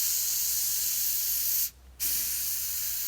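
Aqua Net hairspray hisses from an aerosol can onto a taxidermy piece, a steady close spray that stops briefly for a short gap and then resumes.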